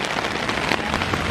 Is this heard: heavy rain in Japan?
yes